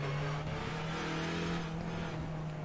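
Hyundai Elantra N TCR race car engine in iRacing at Laguna Seca, a steady, loud droning engine note held throughout under braking into a hairpin, with no talking.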